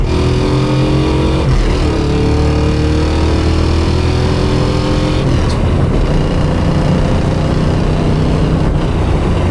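A 1972 Ford Gran Torino Sport V8 with an aftermarket MSD ignition pulls hard under acceleration, a loud, close engine roar rising in pitch through the gears, with a brief shift dip and no talking.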